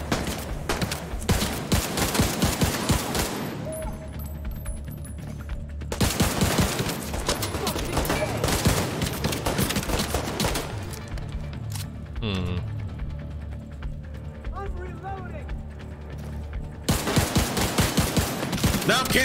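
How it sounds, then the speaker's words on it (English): Gunfire from the video game The Division 2, loud bursts of rapid automatic shots in several long volleys separated by brief lulls with mechanical clicks, all heard close. "Shoot it."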